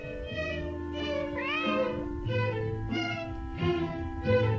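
A cat meows repeatedly in a Disney animation about the history of cats, with several drawn-out, rising and falling cries over a sustained musical score.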